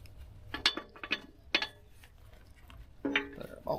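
A bolt is fitted back into a mulcher tooth, giving a few sharp metallic clinks and taps in irregular bursts at low level.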